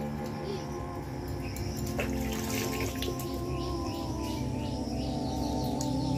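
Cut fish pieces are rinsed under running water in a kitchen, a continuous close splash and trickle with a faint high insect-like chirping in the background and no speech.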